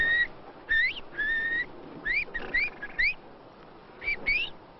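A man whistles imitation bird calls by mouth to lure birds for hunting. His voice mimics the bird: a series of short, sharp, rising chirps in clustered bursts, close and clear with quiet gaps between them.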